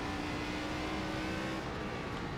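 Steady, loud ARCA stock car engine held at full throttle in the iRacing video game, a continuous droning roar with no gear changes across the whole stretch.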